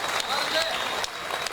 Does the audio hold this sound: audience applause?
yes